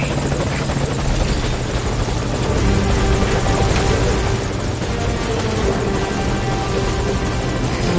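A helicopter in Metal Gear Solid V hovers at a landing zone, its rotor a loud continuous thudding drone that holds steady throughout, with no speech.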